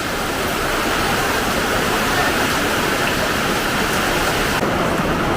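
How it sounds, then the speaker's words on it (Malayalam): Heavy rain pouring steadily, a dense, loud, unbroken hiss with no pauses. "മഴ മഴയുടെ ശക്തി കൂടുന്നതല്ലാതെ കുറയുന്നില്ലല്ലോ."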